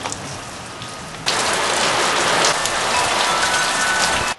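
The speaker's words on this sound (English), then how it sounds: "It's raining in Southern California." Steady rain in Southern California pours down loudly, a dense hiss of drops striking surfaces that jumps in intensity after a second and continues evenly before cutting off, with no voices.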